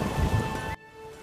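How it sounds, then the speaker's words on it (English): Heavy rain hiss with low rumbling in The Witcher 3, loud and dense, then cutting abruptly to quieter rain. "There's no point standing here in the rain."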